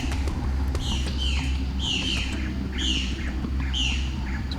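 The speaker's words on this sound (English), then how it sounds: "Just by chance he sees a bird, he hears a bird." Bird in the Amazon rainforest giving a series of about five sharp, descending squawking calls at a steady rhythm, moderately close over a low background hum of the forest.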